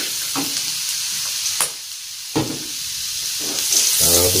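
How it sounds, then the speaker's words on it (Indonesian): Garlic stir-fried in hot cooking oil for hotel-style nasi goreng, a steady close sizzle and hiss broken by a few sharp spatula scrapes, with the frying growing louder toward the end. "Kita tumis dulu bawang putihnya sampai harum ya."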